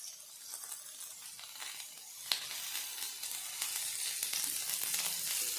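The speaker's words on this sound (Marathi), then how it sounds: "छानपैकी आपल्याला कांदा हा फ्राय करून घ्यायचा आहे" Chopped onions fry in hot oil in a pan over a medium flame, making a steady, close sizzling hiss throughout, with one brief clink near the middle, while a masala for a drumstick-pod vegetable dish is prepared.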